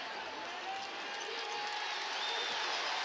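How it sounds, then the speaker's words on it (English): Basketball arena crowd at a Seton Hall college game roaring steadily, a dense broadband wash of cheering voices and some clapping that holds loud and even throughout, with no one speaking clearly over it. "Now the crowd gets into it"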